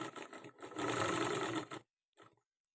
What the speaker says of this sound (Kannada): ಉದ್ದಕ್ಕೂ ಒಂದು ಸ್ಟಿಚಿಂಗ್ ಹಾಕ್ಕೊಳ್ಳಿ.